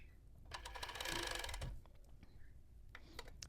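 A sewing machine stitches elastic onto a tank top in a short rapid burst of mechanical whirring and ticking, followed by quieter handling clicks.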